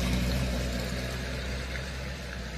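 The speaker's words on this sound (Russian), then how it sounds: "Опять машина проехала." A car passing at a distance, a broad, low rumbling wash of engine and road noise that stays fairly steady and gently fades over a couple of seconds, no voices.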